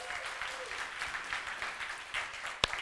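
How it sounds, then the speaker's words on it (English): Business-talk audience breaks into soft, distant applause, a steady patter of clapping for under three seconds with one sharp clap near the end. "give yourselves all a round of applause"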